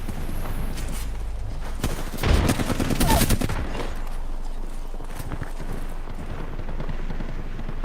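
A short burst of rapid gunfire from the video game Apex Legends erupts at mid-clip over steady game ambience and faint background activity.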